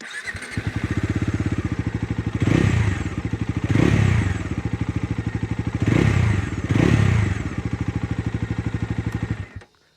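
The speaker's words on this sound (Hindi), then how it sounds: "मैं आपको उसका एग्जॉस्ट नोट सुना देता हूँ" A Bajaj Dominar 250 (2024) motorcycle exhaust thumps at idle with a deep, pulsing beat, broken by two pairs of throttle blips that swell into a boomy roar, close by.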